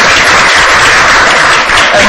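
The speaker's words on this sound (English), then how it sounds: "Could we give them a round of applause, please?" A lecture audience at a talk on the refugee crisis and asylum applauds its speakers, a loud, dense, continuous wash of many hands clapping throughout.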